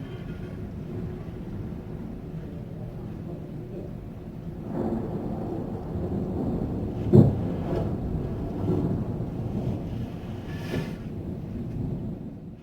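Thunder from a passing storm rolls low and steady throughout, with a sharper rumbling crack near the middle and a softer swell late on, fairly distant and unaccompanied by talk.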